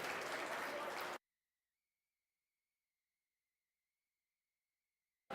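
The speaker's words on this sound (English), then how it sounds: "let's give these individuals a big round of applause once again and congratulate them" Crowd at a sheep quality judging at the 2025 North Idaho State Fair gives a brief burst of dense clapping that cuts off after about a second, leaving silence.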